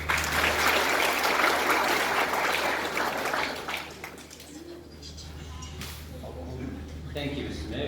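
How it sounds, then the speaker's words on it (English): Applause fills a citizenship ceremony hall, loud and dense for about four seconds, then thins and fades beneath a low hum and scattered room noise. "a big round of applause, please."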